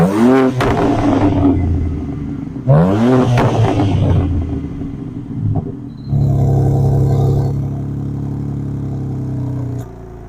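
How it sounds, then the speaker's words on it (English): A BMW M3 Touring with a 3-litre twin-turbo straight-six producing 510 horsepower revs hard twice, each rise a loud roaring sweep, then settles into a sustained, rumbling high idle from its exhaust. "Let's see how loud this exhaust really is."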